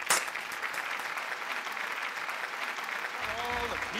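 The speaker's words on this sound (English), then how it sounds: "We stand and we applaud" An audience claps continuously with dense, even applause at an 80th birthday celebration for Geoff Poole, fairly close and sustained, with a few sung or tonal notes rising near the end.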